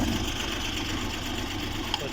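A Suzuki Ravi/Bolan engine with one spark plug wire pulled idles at a steady, uneven mid-pitched rumble with light knocking, fairly quiet and unchanging throughout.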